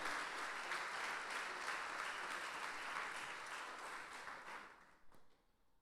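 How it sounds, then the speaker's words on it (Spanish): A church congregation claps together in sustained applause during a morning service, gradually thinning out and fading to near silence at the end. "Dale aplauso al Señor en esta mañana"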